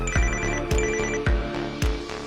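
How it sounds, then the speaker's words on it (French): A telephone rings close and loud, its bright trilling bursts repeating in a steady rhythm, each paired with a low thump, with no talking. "Soudain, le téléphone de Javi a sonné à nouveau."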